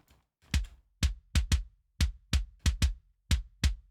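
Dubstep kick drum sample with all-pass filters off, punchy dry hits with thin low end, played in an uneven syncopated pattern of about a dozen strikes with silence between, no talk.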